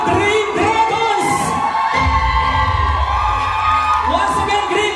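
A loud crowd cheering and shouting for the Green Dragons group, with many voices whooping and yelling together in a sustained roar that swells midway.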